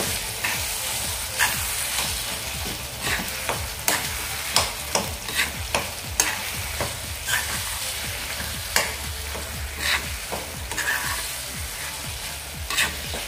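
A spoon stirs Maharashtrian vangyache bharit, mashed eggplant with salt, in a pan over a low flame, giving a steady run of soft scraping strokes and repeated clicks against the metal over a constant faint sizzle, with no voices.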